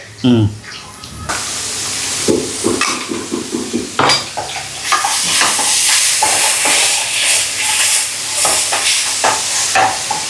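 Food sautés slowly in a pan for chicken fried rice, a close steady sizzle with repeated spatula scrapes and stirring while someone talks.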